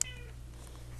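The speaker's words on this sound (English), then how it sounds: "He just meowed for it." Indoor cat, a male pet, gives one short meow right at the start as canned Meow Mix tuna, shrimp and whitefish food is opened nearby, followed by quiet room hum with no talking.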